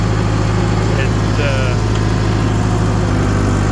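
The small engine of a crawler used to feed cows in muddy ground runs at a steady, loud, close drone without letup.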